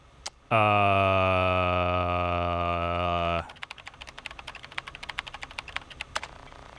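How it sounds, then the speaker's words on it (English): Rapid keyboard typing in the Event[0] video game, a quick run of close, crisp key clicks that follows a long sustained electronic tone. "I can start typing anytime I want"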